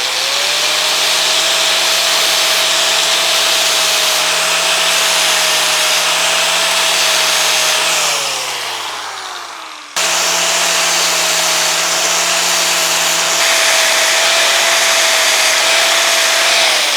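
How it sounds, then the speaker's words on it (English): A grinder spinning up steadily while balancing a small-block Chevy crankshaft and flywheel, a loud sustained motor whine that winds down, stops briefly, then restarts at full speed and holds, close and continuous. "So let me get the grinder set up and we'll be back."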